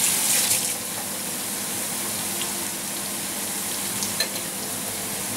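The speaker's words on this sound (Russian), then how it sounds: "Теперь я это перемешиваю." Buckwheat with chicken in cream is stirred in a pan over a steady sizzle, with soft scraping and a few light clinks against the pan.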